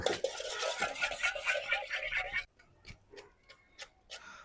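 A spoon mixing girmit snack in a bowl: a busy scraping stir at first, then sparse, distinct clinks and taps against the bowl, close up with no talking.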